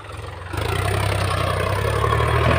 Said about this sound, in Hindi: देखो एक किसान इधर खेत में खेती कर रहा है, ट्रैक्टर, देखो ट्रैक्टर।